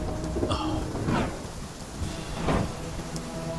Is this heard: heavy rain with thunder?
yes